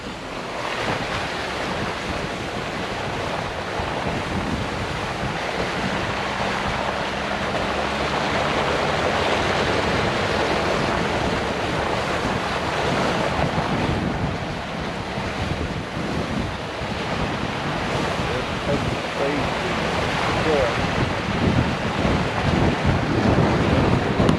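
A Porsche Cayenne driving off-road through water-filled ruts, a constant loud rushing and splashing wash with wind noise, building slightly over the drive with no talk.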